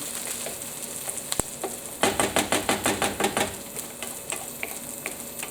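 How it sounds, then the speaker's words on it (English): Onions cooking in a pan for a school chicken curry, a steady sizzle broken by a quick run of rhythmic scraping stir strokes in the middle and a sharp clack near the start. "I am going to let my onions cook for a further few minutes."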